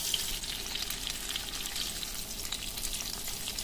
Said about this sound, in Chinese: 先煎带肉的一面。